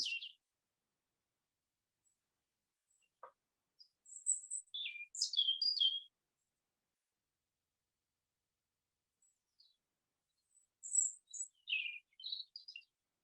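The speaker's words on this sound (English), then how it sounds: "And then our old friend the robin, and we'll hear quite a few of these at both sites tomorrow." A robin sings in two short bursts of high, thin, warbling phrases separated by a long quiet gap, clear but fairly distant with no other sounds around.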